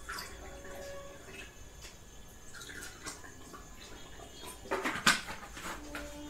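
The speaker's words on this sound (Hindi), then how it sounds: "मैं तीनों कापों में पानी ले रही हूँ" Water poured into three cups in turn for a chilli powder demonstration, a soft trickling and dripping that builds into a brief louder splash near the end, heard alone without speech.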